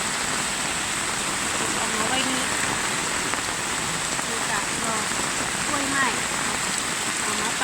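Steady afternoon rain falls in a continuous, even hiss with dense patter on surfaces, close and loud throughout, no voices over it.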